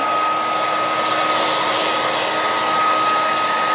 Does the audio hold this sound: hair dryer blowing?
yes